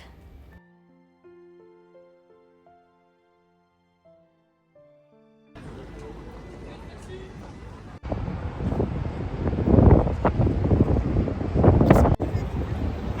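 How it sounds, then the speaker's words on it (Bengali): Gusty wind roars and buffets the microphone outdoors in the Netherlands, growing louder partway through after a quieter stretch of soft tones, with a voice briefly audible. "এত হাওয়া দিচ্ছে যে কি বলবো,"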